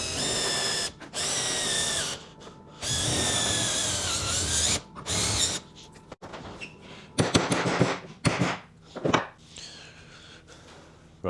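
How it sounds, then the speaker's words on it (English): A power drill with a 4mm bit whines in several bursts, loud and close, drilling out rivets on a C42 aircraft elevator trim tab, with sharp metallic cracks and clatter as it bites through, then short pauses between. "I'm going to start by drilling out the 2 rivets on the trim tab with a 4mm drill bit"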